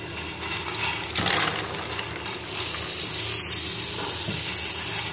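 Lightly roasted nuts for dry fruit chikki hit a hot pan and sizzle steadily, a close, continuous hiss and crackle that swells slightly partway through.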